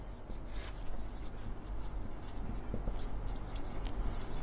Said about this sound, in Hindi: आइए इनको हम लिख लेते हैं